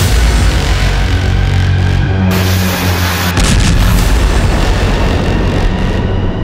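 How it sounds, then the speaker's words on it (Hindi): A Spike missile strikes containers stacked one on top of another, a loud booming blast with heavy rumble that shifts partway through and keeps roaring on, without speech. "देखिए कैसे ये मिसाइल एक के ऊपर एक रखे कंटेनर पर हमला करती है"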